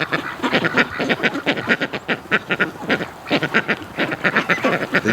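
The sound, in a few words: Pekin and Rouen ducks quacking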